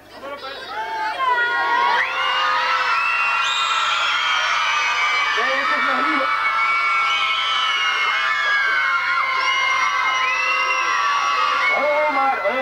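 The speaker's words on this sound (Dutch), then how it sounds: "Ja, allemaal roepen." A group of children shouts loudly together, a dense chorus of high yells and whoops rising within the first two seconds and holding strong and close throughout.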